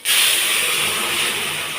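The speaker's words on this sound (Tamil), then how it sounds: "கடைஞ்ச பருப்பு அதில் ஊற்றிட்டேன்." Mashed dal for sambar is poured into a hot tempering pan of dried red chillies, bursting into a loud, steady sizzling hiss that carries on evenly throughout.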